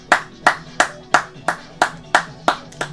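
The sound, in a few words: hand clapping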